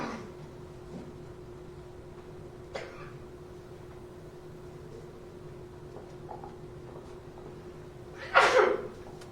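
A single sneeze bursts out near the end of a quiet meeting room backdrop with a steady low hum, loud and fairly close.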